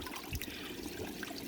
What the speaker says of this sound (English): Water passes through here, comes out these 2 bulkheads with these strainers, and dumps back into the tank.